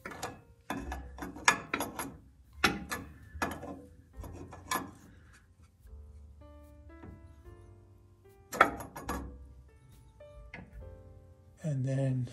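A castle nut is turned back half a turn on a Willys Jeep steering drag link, giving a run of close, sharp ratcheting clicks in uneven bursts, with a few quieter mechanical taps and a brief steady tone near the end.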